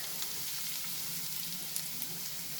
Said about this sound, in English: once the oil is heated, we'll add the chopped garlic